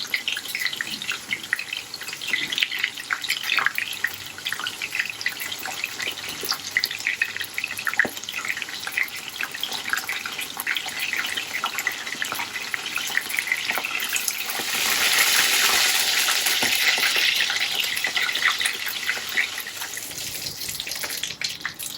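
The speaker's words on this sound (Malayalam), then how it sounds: "രണ്ട് പ്രാവശ്യമായിട്ട് വറുത്തെടുക്കാം." Fish fries in hot oil with a steady crackling sizzle that swells louder for a few seconds toward the end, with no voices.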